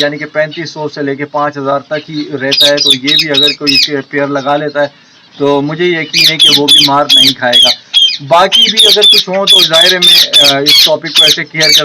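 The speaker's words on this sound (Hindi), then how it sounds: "बोलने वाले तोते भी पीछे चिल्ला रहे हैं" Talking parrots squawk and screech in loud repeated bursts from behind someone speaking continuously, the shrill calls recurring through most of the stretch under and between his words.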